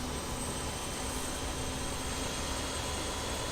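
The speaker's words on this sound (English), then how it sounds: "Sounds like a good start on engine number 4." Engine number 4 of an Avro RJ airliner in Microsoft Flight Simulator runs with a steady, even turbine roar and a faint sustained whine, unchanging and uninterrupted.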